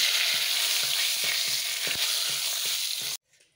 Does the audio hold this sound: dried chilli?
yes